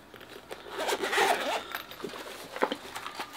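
A zipper is pulled open around a hard-shell plastic carrying case for an OXILAM jump starter. It gives a close, raspy zip with a few short tugs and scrapes, and no talking.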